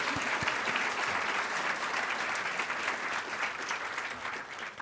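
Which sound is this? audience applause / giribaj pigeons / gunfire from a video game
audience applause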